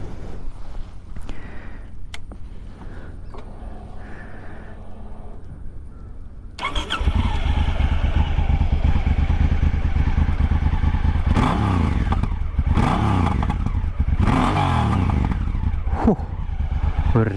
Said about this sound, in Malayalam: സൈലൻസറിൻ്റെ സൗണ്ട് ഞാനൊന്ന് കേൾപ്പിച്ച് തരാം.